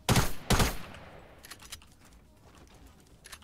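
Gunfire in Fortnite Battle Royale, two loud close bursts at the start followed by fainter distant shots and clicks.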